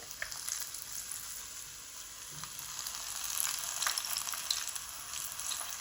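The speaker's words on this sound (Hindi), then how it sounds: "घी गरम है। अब ये देखिए एक एक प्याज ऐसे पकड़ेंगे, ऐसे डालते जाएंगे।" Onion fritters made from onion and gram-flour batter sizzle steadily in hot ghee, a dense continuous crackle that grows a little busier as more pieces drop in, with no talking.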